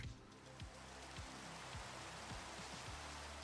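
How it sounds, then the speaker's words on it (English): Steady rain patters in the Minecraft modpack All the Mods 9, a continuous dense hiss over a low background with faint periodic thumps, no voices. "while I let you guys enjoy the rain."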